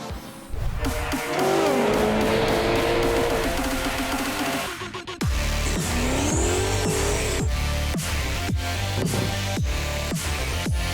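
Race cars at Winton Motor Raceway, including Promax TA2 muscle cars, roar past with loud engine revs and sharp tire squeals, several cars sweeping by in quick succession.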